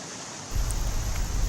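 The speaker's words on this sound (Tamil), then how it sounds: "நீண்ட நாளைக்கு பிறகு இந்த அருவியில் தண்ணீர் ஆர்ப்பரித்து கொட்டி வருவதால்" Silver Falls waterfall in Kodaikanal gushing heavily after a long dry spell, a steady broadband roar of rushing water that swells up loud partway through and holds on without any voices.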